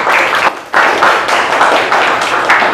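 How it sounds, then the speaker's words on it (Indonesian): A classroom of students claps for a classmate, a dense burst of applause that dips briefly then swells again, steady and close throughout. "Kasih tepuk tangan untuk Mesya."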